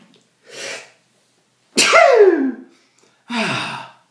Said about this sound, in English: I normally sneeze in pairs